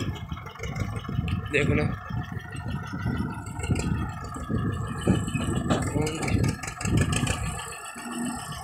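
An Escort 335 tractor engine idles and rattles steadily in the background while someone talks over it throughout.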